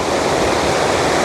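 Waterfall water pouring down in mountain scenery, a loud steady broadband roar that fills the whole moment with no break and no voices.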